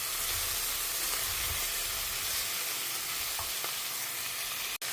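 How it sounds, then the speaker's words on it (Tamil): Tri-coloured capsicums sautéing with salt in a pan for a paneer pulao, a loud, dense, continuous sizzle close up with occasional faint stirring sounds and no talking. "இதுவுமே இப்போ நம்ம கொஞ்சம் உப்பு போட்டு வதக்கிக்கலாம்."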